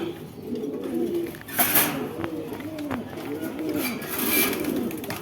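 Banja pigeons at a pigeon market coo in soft, repeated low rolls under steady background chatter and market noise, with a couple of sharp clicks.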